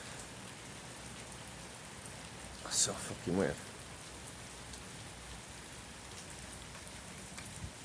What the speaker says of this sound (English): Can't see out through this, it's fucking pissing it down.